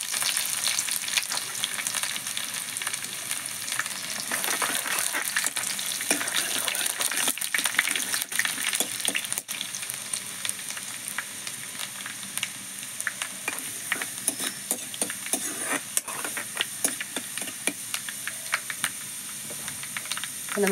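Shallots and mustard seeds fry in hot oil for a Kerala-style chicken curry, giving a loud, continuous sizzle dotted with crackling pops, close and steady throughout, with no voices over it.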